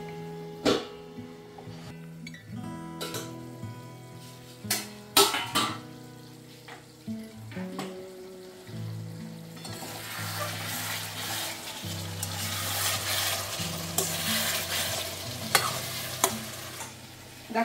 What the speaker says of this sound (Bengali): আমি ঢাকা দিয়ে এটাকে ফোটাবো